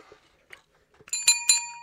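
A notification bell sound effect rings twice in quick succession, bright and clear with a lingering ring, following a few faint soft sounds.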